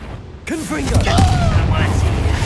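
A Confringo spell blast in Hogwarts Legacy bursts in suddenly after a quiet lead-in, a loud booming impact with a rumbling tail, while a voice calls out over it.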